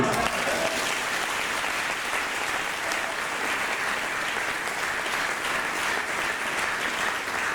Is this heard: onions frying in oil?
no